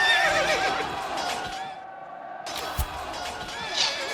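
Horses whinny near a battlefield camp as enemy commanders turn back to prepare for battle: two loud neighing calls separated by a brief silence, with a thud and shuffling in between.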